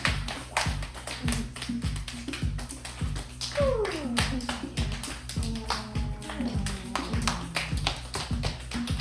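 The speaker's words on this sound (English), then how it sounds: "knock on the low back. Like to make a sound for your body." Fists knock on the lower back during a yoga class, making a steady run of dull, rhythmic thumps that go on throughout, with faint gliding tones in the background.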